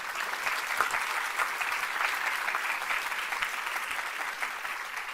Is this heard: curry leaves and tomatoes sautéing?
no